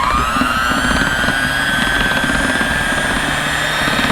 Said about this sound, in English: Now I'm going to try and get it nice and fluffy by whipping it.